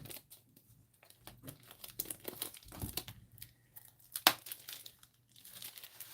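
Envelopes and cardstock being handled while unpacking a craft product, giving soft papery crinkles and brief crisp rustles scattered across the stretch, with one sharper crackle near the middle, all close and fairly quiet.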